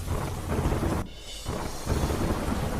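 Heavy rain pours down in Delhi, a dense hiss with rumbling thunder. The roar briefly drops out partway through, then resumes at full strength.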